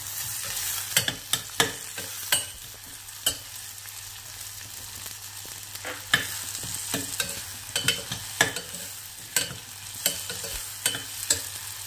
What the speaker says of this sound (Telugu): అల్లం వెల్లుల్లి పేస్ట్ వేసాక వేగాక క్యాప్సికం యాడ్ చేస్తున్నాను